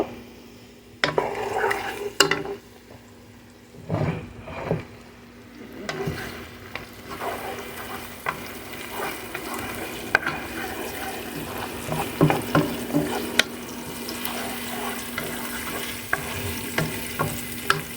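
Onion and bay leaves fry in hot oil with a steady sizzle, broken by scraping stirs and occasional clinks of a utensil against the pan, close and fairly loud, no voices.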